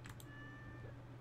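A cat in the Stardew Valley farming game gives a single short meow, quiet over a steady low game background hum.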